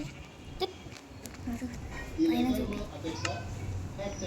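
Goats in the Lokicraft video game let out a few short bleats, moderately clear over a quiet background, while a person keeps talking throughout.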